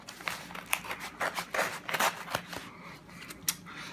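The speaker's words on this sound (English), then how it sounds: "let's just cut it open and see what we have inside" Scissors snip and crinkle through the packaging of a parcel sent from Japan, a run of irregular cuts and rustles up close, tapering to a few sparse snips.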